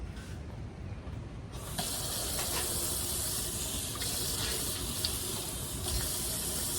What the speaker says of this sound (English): And for me, I'm gonna add a little bit of water.